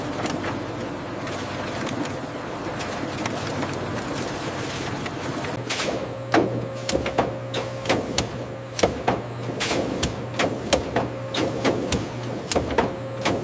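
An industrial high-speed steel cutting machine slices bananas into chips on a factory line. A steady mechanical hum carries a rapid run of sharp clattering cuts that grow louder and more distinct partway through, with no talking.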